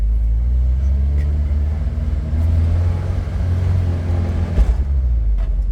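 A car engine pulling hard in second gear while driving with no clutch, a loud close low rumble with a steady drone that strains and rises, with no talk over it.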